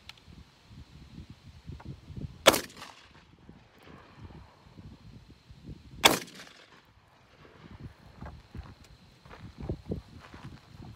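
Two loud, sharp shotgun blasts from a CZ Hammer Classic 12 gauge, spaced a few seconds apart, each ringing out briefly over quiet outdoor background with faint rustling and footsteps.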